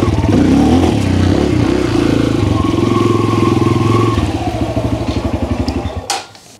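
A modified Kawasaki KLX 140 dirt bike engine revs loud and close, holding a buzzy throttle blip before dropping to a choppy, pulsing idle and cutting off near the end.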